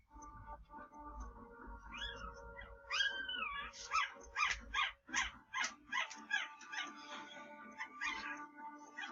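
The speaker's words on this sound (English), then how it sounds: "Sorry if you can hear that in the background, that's my dog's pups." Puppies whimpering and yipping in a home, a run of high, wavering whines followed by a steady series of short rhythmic yelps, fairly close and moderately loud with no talk over them.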